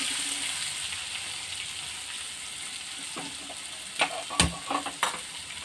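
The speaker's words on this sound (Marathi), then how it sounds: "आता त्यामध्ये आपण कांदा टाकतोय भाजण्यासाठी." Onion, green chilli and curry leaves fry in hot oil with a steady, close sizzle, joined near the end by several sharp stirring scrapes and clinks against the pan.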